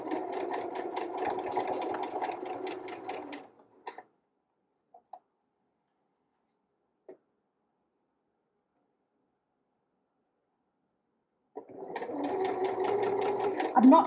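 A twin needle sewing machine stitches binding onto a cotton lycra cami in two bursts of rapid, even mechanical whirring, with a long near-silent pause between them broken by a few faint clicks.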